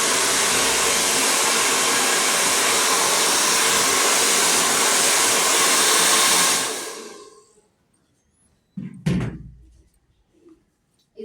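A handheld hair dryer blow-dries a girl's layered haircut on slightly oily, unwashed hair, a loud, steady roar for over six seconds that then winds down and stops, followed by a couple of soft knocks.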